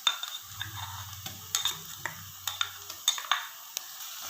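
Onion frying in a pan with ginger-garlic paste, stirred with a utensil: soft sizzling under repeated light scraping and clinking strokes, close and fairly quiet, with no talk.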